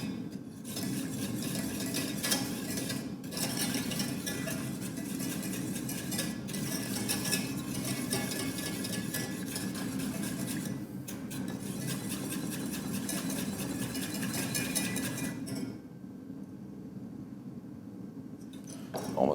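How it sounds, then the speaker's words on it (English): A spoon stirs and whisks briskly in a pot of boiling halibut braising sauce, a continuous scraping and bubbling churn with faint metallic clinks that keeps up steadily and drops off near the end. "I will show you how we do it in the restaurants to get a nice foamy sauce out of this"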